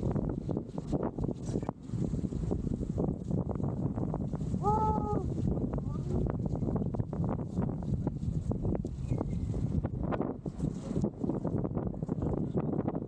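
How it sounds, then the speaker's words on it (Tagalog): Steady wind at a wind farm in Ilocos roars and buffets close to the microphone, a continuous low rumble with gusty fluctuations and faint rustling throughout. "Windy. Bakit pala ng hangin dito talaga?"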